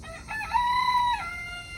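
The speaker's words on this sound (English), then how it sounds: "oh my gosh, the chicken" A chicken crows once, a clear drawn-out call over steady background noise, with no talking.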